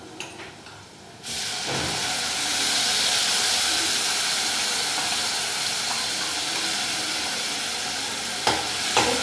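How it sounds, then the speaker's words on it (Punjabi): Tomato puree hitting browned onions in a hot pan, a loud sudden sizzle that settles into a steady hissing fry with a few clatters at the end. "ਹੁਣ ਆਪਾਂ ਇਹਦੇ ਵਿੱਚ ਪਾ ਦਾਂਗੇ ਪਿਊਰੀ ਜਿਹੜੀ ਟੋਮੈਟੋ ਪਿਊਰੀ ਬਣਾਈ ਸੀ ਆਪਾਂ"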